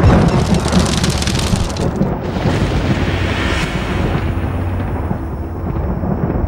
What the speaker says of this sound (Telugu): సౌండ్ లేట్రా. అవి ఉరుములురా